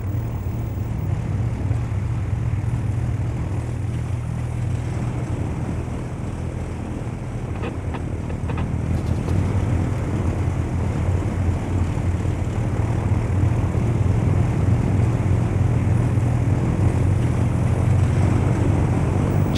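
A small airplane departs across open Antarctic terrain, its propeller engine droning steadily at low pitch throughout, moderately loud and continuous with wind noise on the microphone and no voices.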